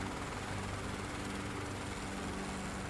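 Helicopter engine throttle rejoining during an autorotation: a steady, loud, continuous engine and rotor drone with a low rumble, holding even with no talking.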